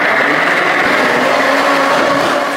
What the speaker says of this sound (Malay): So kita kisarlah.